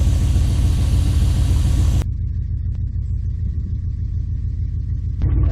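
A 1970 GMC truck engine runs steadily in freezing cold, a loud continuous low rumble throughout with a brief change in tone near the end.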